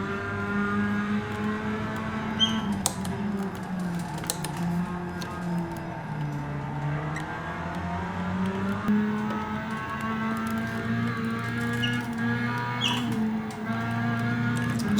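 Race car engine in a racing sim video game during laps, a steady droning whir with slowly shifting revs, continuous and moderately loud with no talk over it.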